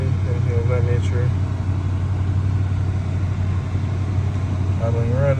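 A car engine idles just after start-up, a steady close low hum that holds an even pitch throughout, with a voice speaking briefly near the start and the end.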